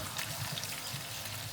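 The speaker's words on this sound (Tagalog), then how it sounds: "Lagyan natin yung tubig" Water poured into a cooking pot for chicken tinola, a steady low splashing and trickling stream running throughout at close range.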